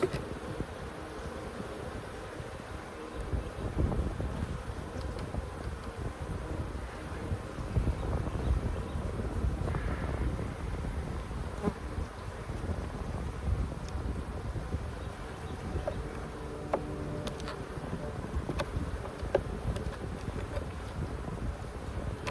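Dense, steady buzzing of many honey bees around an open hive close by, droning continuously with light wind noise and occasional soft knocks.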